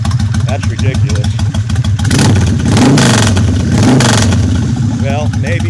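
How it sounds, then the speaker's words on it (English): A motorcycle with an uncorked Vance Hines exhaust idles with a loud, lumpy throb, then revs hard twice, the engine roar swelling and falling back each time. "that exhaust system is just sounding bad butt there to me"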